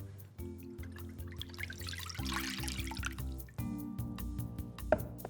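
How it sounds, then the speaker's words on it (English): Orange juice is poured into a porcelain dish, a close trickling and dripping stream with a steady ringing tone, softly splashing throughout. "I'm going to pour it into a porcelain dish"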